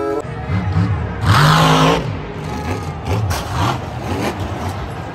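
A toy monster truck plays a mid-pitched engine rumble with rising revving sweeps and one louder surge near the start. The sound is steady and close, with no talk.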